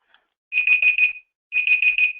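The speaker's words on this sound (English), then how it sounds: "You can find these online timers for free like this one." An online countdown timer alarm sounds two loud bursts of rapid high electronic beeps, each about three-quarters of a second long, separated by a short silence.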